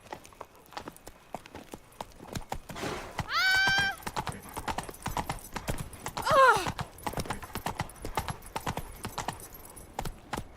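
A horse gallops in the video game Witcher 3, rapid rhythmic clip-clop hoofbeats throughout, with two loud whinnies breaking through partway along.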